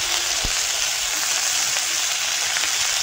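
Onion and garlic fry in hot oil, with a loud, dense, continuous sizzle close up and no talk.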